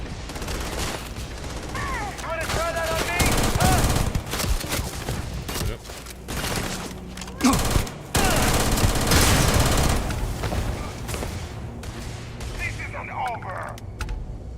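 Dense, loud gunfire from the Starfield video game: sustained automatic bursts and overlapping shots forming a near-continuous fusillade, with brief gaps and some game voices mixed in.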